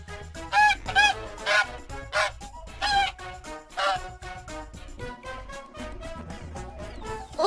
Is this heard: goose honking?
yes